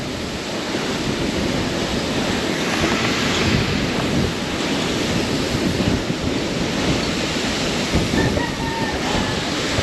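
Strong wind roars across the microphone beside high-tide floodwater in Navotas, a dense, continuous wash of gusting noise and surging water that stays loud and close throughout.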